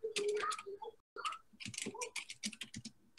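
Computer keyboard keys pressed for the Ctrl+V paste shortcut while working in Roblox Studio: a run of quick, close, light clicks in two bursts, separated by a short pause.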